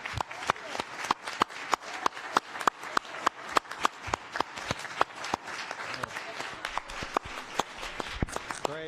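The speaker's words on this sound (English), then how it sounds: "I want your standing applause." A standing ovation at a government initiative event, loud, distinct claps in a fairly regular rhythm from a nearby group, sustained for several seconds with no talking.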